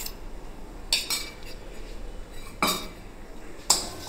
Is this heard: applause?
no